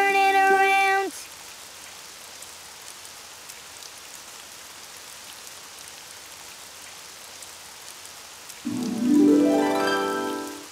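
Rain falling outside, a soft, even patter that runs steadily through the middle, bracketed by bursts of tonal music at the start and end.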